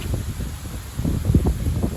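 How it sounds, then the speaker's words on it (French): Gale-force gusts buffet the microphone in low, rumbling surges that rise and fall, with no voices. "Je vous laisse sur ces dernières rafales qui ont été assez importantes pour la période"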